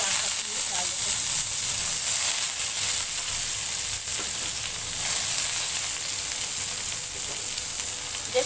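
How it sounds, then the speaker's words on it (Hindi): Choliya saag leaves go into browned cumin in a hot pan and sizzle loudly and steadily, a close, constant hiss with faint stirring and no talk over it. "ब्राउन हो गया है जीरा, अब इसे हम साग का पत्ती डाल देते हैं।"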